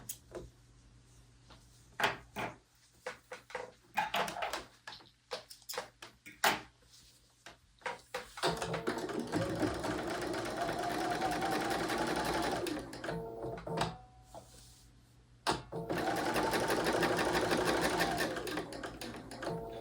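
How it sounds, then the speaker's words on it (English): A sewing machine stitches quilt pieces for a tea party quilt, starting with scattered clicks and handling knocks and moving into two long runs of rapid, steady stitching, close and loud. "And then we'll sew the other side."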